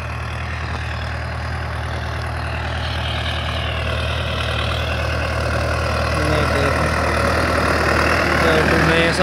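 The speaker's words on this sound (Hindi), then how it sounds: "अपना ट्रैक्टर बढ़िया है" A Farmtrac 60 tractor engine runs steadily nearby with a deep, continuous idle rumble that grows slightly louder toward the end, while someone talks faintly underneath.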